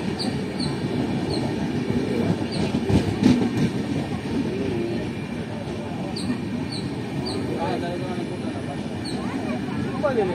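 The Pallavan Express passenger train runs on rails between Lalgudi and Chennai Egmore, with a loud continuous rumble, periodic wheel clicks and squeals, and faint voices in the carriage.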